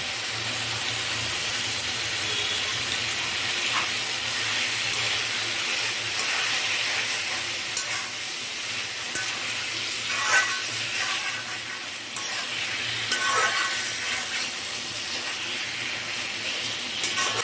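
A paste of poppy seed, white mustard, green chilli and ginger sizzles with ridge gourd in a pan, a continuous loud hiss with occasional soft stirring scrapes and no talking.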